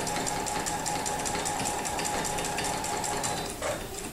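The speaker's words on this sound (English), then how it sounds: "I will basically be quilting from the bottom of the block up to the top" A sewing machine running steadily during free motion quilting along a stitch line, a loud continuous mechanical whir and rapid needle chatter, easing slightly near the end.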